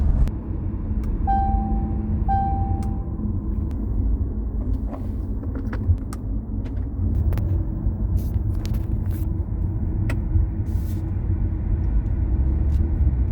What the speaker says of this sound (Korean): 이렇게 했을 때 다시 시동이 걸리고 이제 D단으로 놓으면 다시 구동력이 살아납니다.